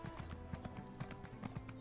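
Horse hooves clip-clop at a steady walking rhythm while riding through Morrowind in Elder Scrolls Online, each step a crisp, close knock over a low ambient game backdrop.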